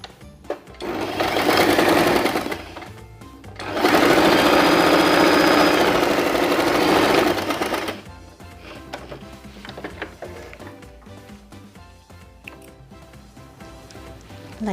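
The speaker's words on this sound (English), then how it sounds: "Fold the fabric like this and sew here using regular stitch." Sewing machine running a regular stitch through folded fabric for a baby turban, in two steady whirring bursts of about two and four seconds, close and loud, followed by quieter handling of the cloth.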